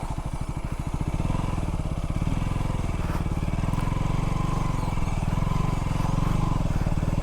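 A KTM Duke motorcycle runs steadily while being ridden toward Pattathippara waterfalls, its low engine drone and road rumble constant and close throughout with no talk.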